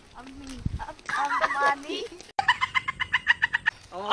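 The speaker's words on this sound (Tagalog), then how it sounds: "ang daming uwak talaga" Several harsh crow calls repeat in a quick, regular series after some mixed chatter and bird noise, loud and fairly close, at a resort.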